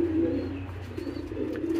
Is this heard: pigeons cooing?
yes